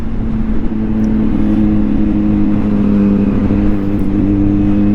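A 2023 Kawasaki ZH2 motorcycle being ridden with a clutchless blip shifter, its engine droning loud and steady close up with slight pitch changes, no speech.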